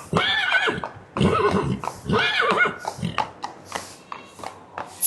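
A horse at a stud farm gives several loud, close whinnies and neighs, then snorts and breathes in short bursts.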